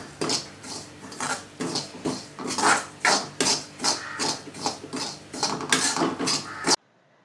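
Grated coconut and curry leaves roasting in a pan, stirred with steady rhythmic scraping strokes, about a dozen close, crisp scrapes in a row with no talking.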